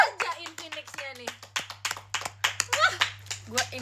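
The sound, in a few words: people clapping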